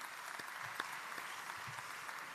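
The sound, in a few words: applause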